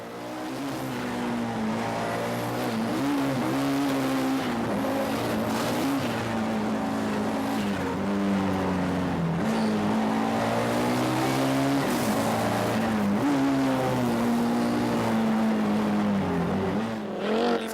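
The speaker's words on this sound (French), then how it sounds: "les frères Sprangel sur la Audi Quattro S2. Une autre superbe machine de compétition" An Audi Quattro S2 rally car of about 300 horsepower at a 1994 Charlevoix rally sends out a loud, sustained engine drone with rising and falling revs as it is driven hard, with no talking.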